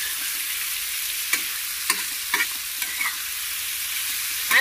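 Curry leaves and tomato frying in a pan for a village-style eggplant bharit, a steady sizzle under a handful of spaced, sharp spatula scrapes and taps against the pan.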